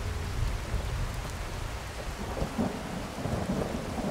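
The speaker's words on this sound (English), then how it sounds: "I don't think we should be up on a mountain in a rain, thunderstorm thing." Steady rain and a rolling thunderstorm on a mountain in the video game Skyrim, continuous dense rainfall with low thunder rumbling underneath at an even, moderate level, no voices.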